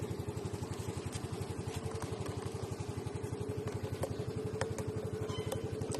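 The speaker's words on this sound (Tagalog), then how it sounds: "ang tunog ng makina, sobrang tahimik pa" A small scooter engine idles steadily close by, with an even, rapid putter and light mechanical clatter throughout.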